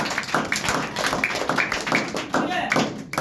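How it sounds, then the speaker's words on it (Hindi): Applause for a second-place winner at a prize distribution for a weekly test: a crowd claps in dense, uneven bursts under continuous voices and chatter. "इनके लिए एक शानदार सा ताली बजाइए।"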